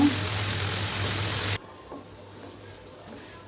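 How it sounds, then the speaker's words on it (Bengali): Quail pieces frying in a pan sizzle loudly and steadily while being stirred, then the hiss cuts off abruptly and quieter clinks and rustles follow. "আবার নাড়াচাড়া করে আর একটু ভাজি করে নিব"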